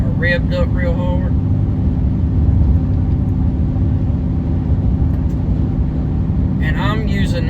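A pickup truck engine runs in tow haul mode in 4th gear of five, giving a steady, loud, low drone that does not bog down or rev hard. Someone talks briefly over it at the start and end.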